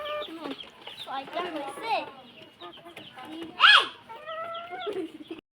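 A chicken gives a short, loud cluck near the middle, with quieter talk and background noise before and after.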